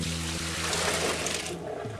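Water from freshly cooked pasta is poured off through a strainer into a pan, a close, steady rushing gush that thins out at the end.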